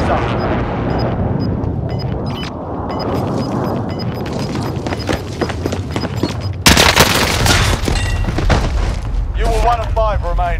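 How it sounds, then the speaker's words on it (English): Precision airstrike explosions in Call of Duty Warzone, loud repeated blasts and gunfire-like cracks in a dense barrage that sharpens and intensifies partway through, with brief voice sounds near the end. "Enemy precision airstrike."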